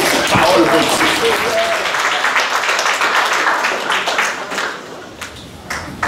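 A church congregation at a Sunday morning service claps together in sustained, dense applause that fades slightly toward the end, with a few scattered claps and cheers over it.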